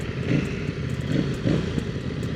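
A CFMOTO 800NK motorcycle runs on a ride, its engine droning steadily with slight rises and dips in revs, close and fairly loud with wind noise over it.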